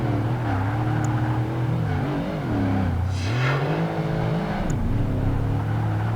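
Mercedes SL55 AMG engine in Project Gotham Racing 2 on Xbox, droning steadily and rising and falling in pitch through gear changes and revs, loud and continuous throughout.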